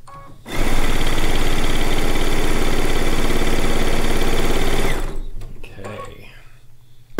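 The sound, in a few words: Solaris sewing machine, embroidery arm removed, stitching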